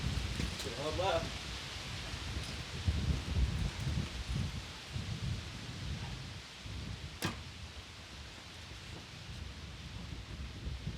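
Wind buffets a microphone at an outdoor shooting range as a steady, broad low rumble with gusty swells, with a brief sharp crack partway through and faint talk early on.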